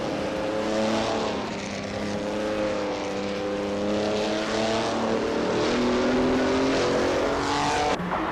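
A 1959 Aston Martin DB R4250i and other race cars roar together in a racing video game, a loud, steady, layered engine drone with shifting pitch that holds for the whole stretch, no voices.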